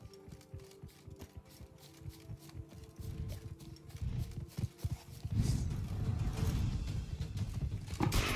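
Horse hooves clip-clop in the Witcher 3: Wild Hunt Blood and Wine video game, a steady rhythmic trot of close hoofbeats that grows louder and busier midway, with faint ambient game sound.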